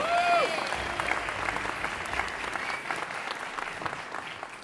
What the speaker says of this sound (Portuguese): vamos dar então uma salva de palmas para a nossa Fritadete